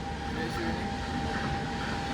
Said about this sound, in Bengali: সাইড দিয়ে একটা ট্রেন বেরিয়ে যাচ্ছে